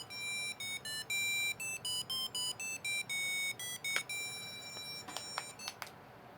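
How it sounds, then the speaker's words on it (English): Electronic beeps from The Oregon Trail video game come in a quick run of short, evenly spaced tones, then a few sparser higher chirps near the end, clear and alone with no talking. "Nice little pleasant beeper there."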